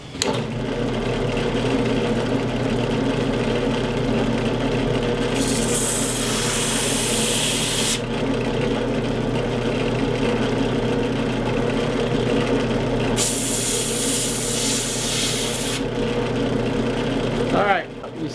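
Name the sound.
drill press sanding wood laminate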